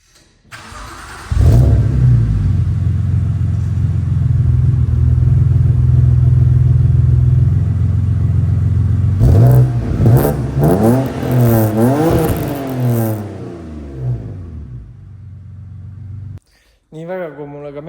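A turbocharged car engine starts and holds a loud, steady idle, then revs up and down in several rising and falling sweeps before cutting off, heard close and on its own.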